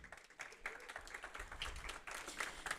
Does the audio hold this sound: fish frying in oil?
no